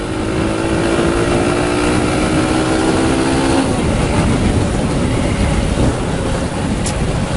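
A motorcycle ridden on wet roads in horrible weather: a loud, steady engine drone buried in constant road and spray hiss, with the engine note falling away about halfway through.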